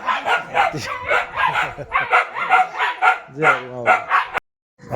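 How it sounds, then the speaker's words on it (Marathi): Hunting dogs bark repeatedly nearby in rapid, rhythmic bursts, overlapping with a person speaking before the sound cuts off abruptly near the end. "बघा कुत्री बघा. शिकारी शिकारी कुत्री"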